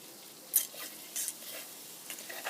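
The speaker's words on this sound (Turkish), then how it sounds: "bakın kaynamaya başladı bile" Nitric acid reacting in a container while extracting gold from scrap, a faint fizzing and bubbling hiss with small sharp crackles and pops scattered throughout.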